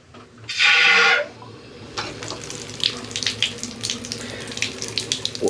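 Tap water gushes into a bathtub fitted with a trip-lever drain: a loud burst of running water for about a second, then scattered splashes and drips nearby.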